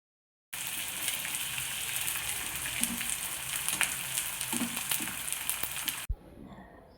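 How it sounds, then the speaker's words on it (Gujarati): Edible gum frying in hot oil in a wok, a dense continuous sizzle and crackle with scattered pops, close and even, ending abruptly in near silence. "તેલ ગરમ થઈ જાય એટલે આપણે ગુંદરને તળી લઈશું."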